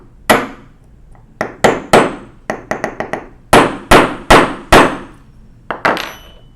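A hammer strikes a punch to drive a taper pin out of a 1920s Monroe model K mechanical calculator, a series of about fifteen sharp metallic blows in irregular clusters, close and loud, with no talking.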